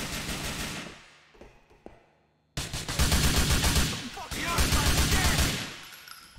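Video game gunfire bursting in rapid volleys, loud and close, with a brief lull before the shooting resumes even heavier and sustained to the end.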